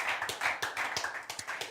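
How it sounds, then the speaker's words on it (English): Church congregation clapping during a Sunday service, a close, dense burst of irregular handclaps with sharp rhythmic accents, no voices over it. "give him a clap"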